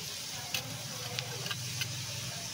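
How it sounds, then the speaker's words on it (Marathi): Whole spices, including cloves, cinnamon, cumin, green chilies, black pepper, coriander and fennel, sauté in a pan for butter chicken masala, giving a soft, steady sizzle with a few faint clicks. "दालचिनी, थोडंसं जिरं, छान असं परतून घेऊ।"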